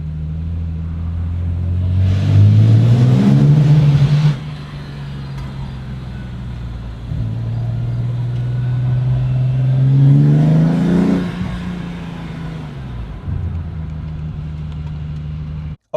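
Engine of a BMW E30 Touring swapped with an S38 straight-six revs up twice, loud and rising each time, then settles back to a steady, rumbling idle between pulls, with a brief sharp drop at the very end.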